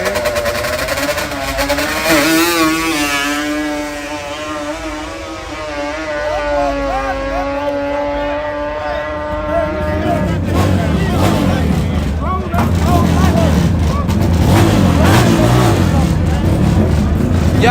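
ATVs race on a dirt track, engines droning and rising in pitch as they rev and pass, then a louder rougher burst of revving near the end, with crowd noise in the background.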